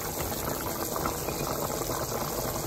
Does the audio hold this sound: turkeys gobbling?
no